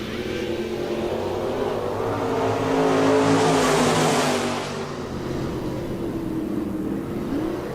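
Stock cars in a heat race at Park Jefferson Speedway roar past together, a dense engine drone that swells as the field passes close by and then recedes, steady and loud throughout.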